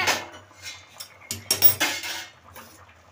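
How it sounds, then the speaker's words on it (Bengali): A metal lid comes off a pot of simmering ghugni with a few sharp clanks and scrapes of metal on metal, close and brief, with quiet gaps between. "এই যে ঢাকনাটা খোলা"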